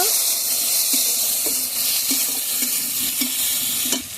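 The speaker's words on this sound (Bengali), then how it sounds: "পেঁয়াজ রসুনের সঙ্গে টমেটোটা ভালোভাবে কষিয়ে নেব" Chopped tomato frying with onion and garlic in a pan for a Bangladeshi chicken skin and liver bhuna, a steady loud sizzle broken by repeated short scrapes of stirring.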